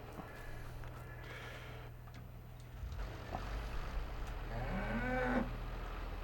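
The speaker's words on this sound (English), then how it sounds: "Sounds like a cow in distress." A cow in Farming Simulator 22 lets out a drawn-out, rising moo near the end, over a constant low engine drone from a farm vehicle.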